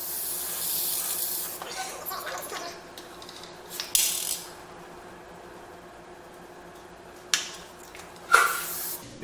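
An airbrush sprays paint in a few short hissing bursts separated by quiet pauses, with faint mechanical clicks in between.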